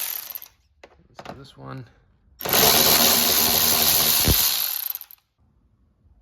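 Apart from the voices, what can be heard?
ratchet removing screws on a Range Rover L322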